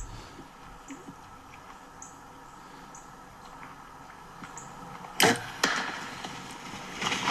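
An arrow from a bow strikes a hog with a sharp, loud smack against quiet outdoor ambience, followed moments later by a second impact and a rustle.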